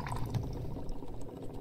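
Distilled water pours steadily into a test tube in a LabSim lab simulator, a soft continuous liquid trickle heard alone at moderate volume.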